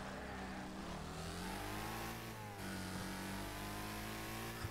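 A bent, damaged race car in the Wreckfest racing game revs hard after shifting into second gear during a three-lap tournament race, its loud engine note rising steadily and continuously with no talk over it.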